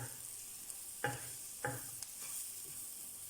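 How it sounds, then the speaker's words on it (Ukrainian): Meat with flour frying in a pan, heard as a faint low sizzle broken by two or three distinct scraping stirs of a utensil against the pan. "Перемішуємо і жаримо його до золотистого кольору."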